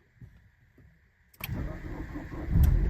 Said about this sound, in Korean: 스타트 모터가 엔진을 돌리는 속도가 매우 느리죠